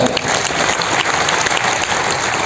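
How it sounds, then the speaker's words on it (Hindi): An audience on stage at an RCM business academy event in Bhilwara applauds loudly, with dense, sustained clapping that fills the whole stretch, and a faint crowd murmur underneath. "मेरे कोच और मेरी टीम के लिए एक बार जोरदार तालियां।"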